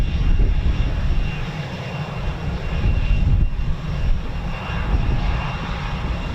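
A Eurofighter Typhoon FGR4 fighter jet takes off at RAF Coningsby, heard as a continuous, fairly distant engine roar that holds steady throughout with no talking.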